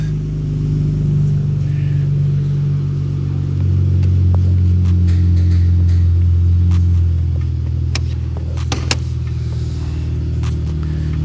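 A Pentastar 3.6-litre V6 in a 2020 model, heard loud and close in a shop, with a steady low engine rumble and a swell in revs midway before settling back to idle.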